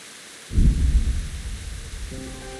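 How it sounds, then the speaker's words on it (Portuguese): Rain patters steadily in the medieval countryside of Kingdom Come: Deliverance as a deep rumble of thunder rolls in and slowly fades, loud and low, with the rain carrying on beneath it. "como que é bonito o efeito da chuva"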